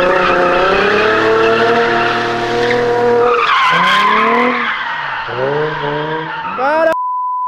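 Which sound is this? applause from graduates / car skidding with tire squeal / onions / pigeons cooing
car skidding with tire squeal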